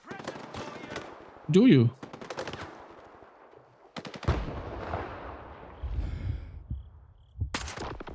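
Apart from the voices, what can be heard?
gunfire and grenade explosions in a video game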